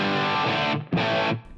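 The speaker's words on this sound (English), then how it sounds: "If I turn on that dynamic ambience" Distorted electric guitar tone from a Helix amp modeler with a subtle dynamic ambience room reverb, two sustained strummed bursts separated by a brief gap, loud and close, no talking.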